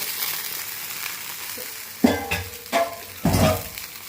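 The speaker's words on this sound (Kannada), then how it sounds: "ಹಾಕಿ ಇದನ್ನು ಚೆನ್ನಾಗಿ ಡ್ರೈ ರೋಸ್ಟ್ ಮಾಡಬೇಕು" Boiled chicken pieces dry roasting with softened onions in a pan, a soft background sizzle broken by three louder bursts of stirring and scraping in the second half.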